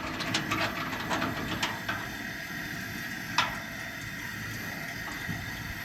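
An old Coleman gas camping stove burner hisses steadily, a broad constant rush with faint clicks and a brief tick midway, no voices over it.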